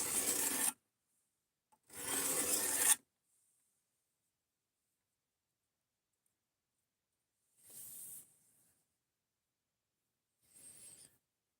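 A knife is drawn across a sharpening stone in separate broadband rasping strokes: two strong, close passes near the start, then two fainter, shorter strokes later, with long silences between and no talking.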